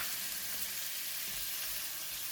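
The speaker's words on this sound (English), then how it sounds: "Add in all the squid. Give it a stir for about 1 minute." Squid stir-frying in hot garlic oil, a steady loud hiss and crackle of sizzling throughout, with no voices.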